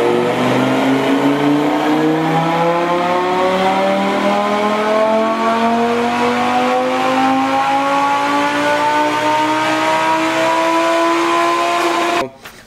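A Lamborghini Super Trofeo race car engine revs steadily upward on a dyno, one long loud continuous pull with rising pitch for about twelve seconds before cutting off abruptly.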